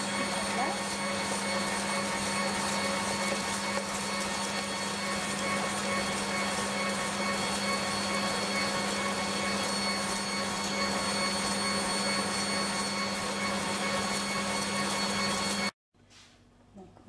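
An electric mixer whips cream with icing sugar into chantilly, a steady loud motor drone for about sixteen seconds before cutting off abruptly.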